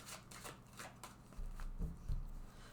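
Tarot cards are shuffled close by in quick riffling bursts, a few crisp flicks followed by heavier thumps as the deck is handled, with no talking.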